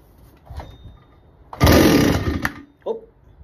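Thirty-year-old SOLO 615 chainsaw firing briefly after a starter-cord pull, a loud close burst of engine roar lasting about a second before cutting out, with softer handling noises before and a short clunk after.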